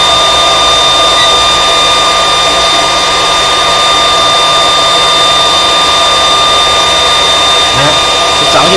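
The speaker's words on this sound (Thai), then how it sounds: "เสียงตัวนี้คือเสียงการทำงานนะครับเสียงการทำงานของพัดลม" A computer power supply's cooling fan runs during a test on a UTM universal tester for mining rigs, giving a loud, constant whirring drone with steady tonal hum and no pauses.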